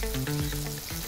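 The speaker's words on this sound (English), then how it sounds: "Now is the time to start flipping and stir frying." Beef strips sizzle and crackle in a hot pan or wok during Chinese stir-frying, a steady frying hiss punctuated by the clatter of stirring.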